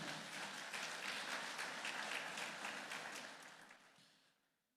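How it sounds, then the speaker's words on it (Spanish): Congregation clapping during a Spanish-language church service, a dense and fairly distant wash of applause that holds steady for a few seconds before fading away at the end. "Dele un fuerte aplauso al Señor."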